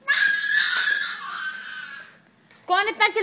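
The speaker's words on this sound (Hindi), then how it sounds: "कौन चिल्ला रहा है इतना?" A child screaming loudly and shrilly for about two seconds, close by, then a brief pause before a burst of wailing cry-like vocalizing.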